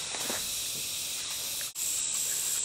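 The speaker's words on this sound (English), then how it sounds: "colour coat on the plastic primer painting job we're doing. Here it goes." Spray gun laying a light colour coat over plastic primer on motorhome panels, a steady close hiss running unbroken except for one brief cut-off near the end.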